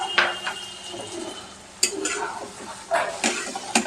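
Spoon scraping and stirring masala in a pan after the spice-rinsing water goes in for a Gondhoraj katla fish curry, with a few sharp clinks against the metal over a soft, low sizzle.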